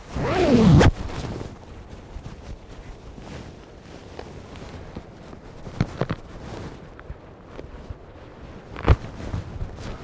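A single quick zip as a jacket zipper is pulled up to the collar, close and crisp, followed by quiet rustling of fabric and a few soft handling sounds.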